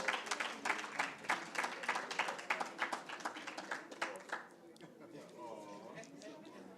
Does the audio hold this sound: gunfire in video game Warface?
no